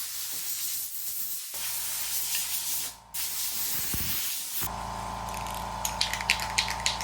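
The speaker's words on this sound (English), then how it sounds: "I just hit it really quickly with some black spray paint" Bursts of hissing from a can of black spray paint, long sprays with a brief gap between them, followed by a few faint clicks and taps.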